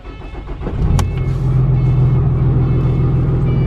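A winter-worn pickup truck's engine cranks and catches within the first second, flaring briefly before settling into a steady, close, rumbling idle.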